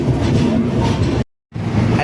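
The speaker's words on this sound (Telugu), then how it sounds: "మన 2 ట్రైన్లు ఒకేసారి వెళ్తున్నాయి." The Krishna Express and Telangana Express run side by side with a loud, close rumble of rolling wheels and carriage noise. The sound cuts out briefly partway through, then the rumble resumes.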